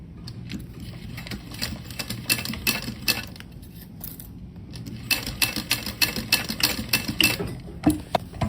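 Sewing machine stitching a fabric fin onto a small whale shark pouch, a steady mechanical whirring run that pauses around the middle and resumes with quick rhythmic clatter, close and moderately loud.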